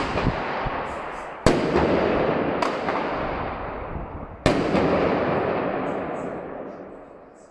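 New Year's Eve fireworks go off outside below the window, with sharp bangs about every few seconds, each fading in a long rumbling echo, fairly loud and without talk.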